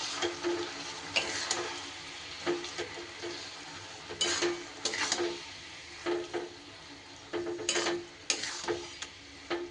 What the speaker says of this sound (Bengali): খুন্তির সাহায্যে নাড়িয়ে একটু এটা ভালো করে মিশিয়ে সুন্দর করে একটা পাক দিয়ে নিতে হবে।